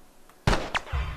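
A gunshot in the video game The Last of Us, a single loud, close blast followed a moment later by a sharper secondary crack, then a brief decaying tail.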